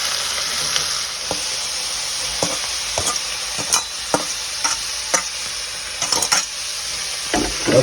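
Tomato juice, salt, green and red chillies and turmeric frying in hot oil, a loud, bright, continuous sizzle with scattered clicks and scrapes of stirring against the pot.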